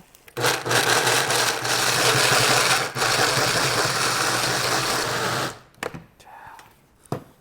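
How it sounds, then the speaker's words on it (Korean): A blender whirs loudly for about five seconds pureeing cooked green peas, with a brief break in the middle, then cuts out, leaving scattered kitchen knocks and clatter. "이 상태에서 제가 블렌더에 넣고 한번 갈아 보겠습니다"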